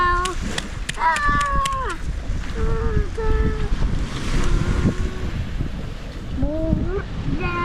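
Waves wash at the sea during an outdoor family picnic and fishing trip, a continuous broadband surf roar mixed with gusty wind buffeting the microphone, under scattered voices and some whistle-like tones.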